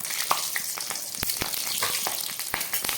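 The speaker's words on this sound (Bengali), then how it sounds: "এবার দিয়ে দিচ্ছি গরম তেলের মধ্যে একটু এই যে 5 ফোড়ন।" Panch phoron spices and green chillies fry in hot oil with a loud, dense, continuous crackle and spitting pops, close up, with no talk.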